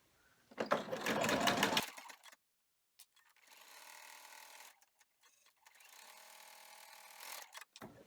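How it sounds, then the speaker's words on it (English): An embroidery machine stitches in the hoop, a close, steady mechanical whir that runs in bursts. A louder first run is followed by pauses and then longer, quieter stretches of stitching. "we go back to the machine and we will run the bottom stitch"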